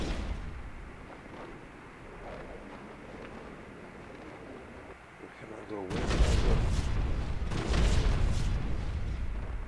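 Gunfire in the GTA 5 video game, with heavy booming shots and blasts that grow louder and denser after a quieter stretch, mixed with a voice speaking over the action.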